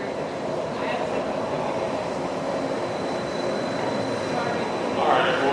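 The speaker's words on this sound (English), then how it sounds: "Here comes the train." A Disneyland train rolls past while guests wait in line, a steady rumble and rail noise holding evenly throughout with a brief brighter hiss near the end, fairly close by.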